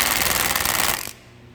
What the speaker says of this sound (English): Little 1/4-inch snap-on gun. I'll just barely pulling the trigger.